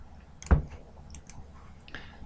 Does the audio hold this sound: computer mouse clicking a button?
yes